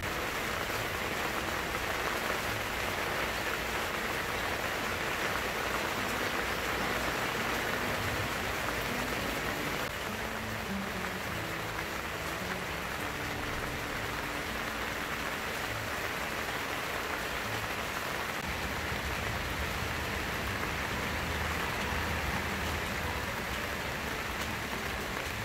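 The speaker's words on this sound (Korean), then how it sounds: "빗소리 좀 넣어봤습니다. 잠깐 음악 같은 빗소리" Steady rain falls continuously in the countryside, a dense even hiss of drops close by with no other sounds and no talking.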